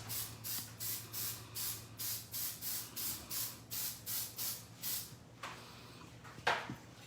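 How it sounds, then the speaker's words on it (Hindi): Non-stick cooking spray hisses onto a 9-by-8-inch baking dish in about a dozen short, even bursts, close and fairly soft, followed by a couple of faint clicks. "I'm going to just spray some, non-stick spray on it."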